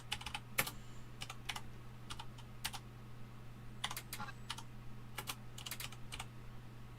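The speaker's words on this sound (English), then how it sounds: "Sorry, my keyboard is so loud." Loud computer keyboard typing in bursts of rapid clicks separated by short pauses, close to the microphone over a steady low electrical hum.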